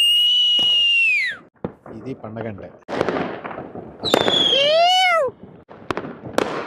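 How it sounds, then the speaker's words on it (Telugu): New Year firecrackers set off at an open spot outside the city, whistling rockets rising and falling in pitch between sharp pops and crackling bursts, fairly close and loud, with someone talking over them. "సిటీలో కాల్చేదానికి అలో లేదు కాబట్టి ఇక్కడికి వచ్చి టపాసులు కాలుస్తూ ఉంటారు"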